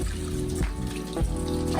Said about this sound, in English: I'm gonna start squeezing out all the shampoo water